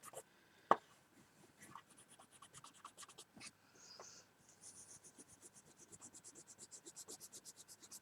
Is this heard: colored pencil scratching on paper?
yes